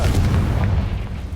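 A Confringo fire spell blasts in Hogwarts Legacy, a deep booming explosive rumble that fills the whole moment, loud and close, with heavy low-end thud and no voices.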